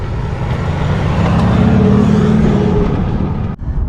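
Land Rover Defender diesel with a Quicksilver stainless exhaust rolling slowly, a steady low engine rumble and exhaust drone that holds even for several seconds before cutting off abruptly.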